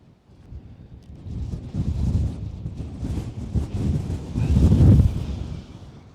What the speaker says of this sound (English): I'm crying because the wind is blasting my eyeballs